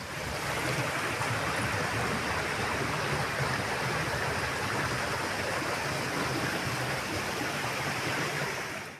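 A flooded river near Guripalla bridge rushes in a loud, dense, unbroken roar of churning water as it rises toward submerging the bridge, with no voices.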